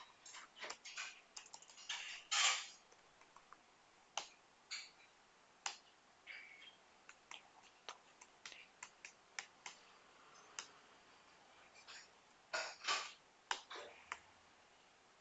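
Someone types a farmer's name into dairy management software on a computer keyboard, with faint, scattered keystrokes in short irregular bursts separated by pauses, heard close up in a quiet room.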